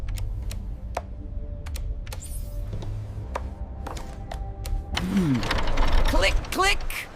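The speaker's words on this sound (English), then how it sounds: "Just hums, rapid tapping sounds." Rapid mechanical tapping and clicking with a low steady mechanical hum beneath, the taps landing in irregular bursts that grow denser and louder toward the end, alongside whirring ratchet-like sweeps.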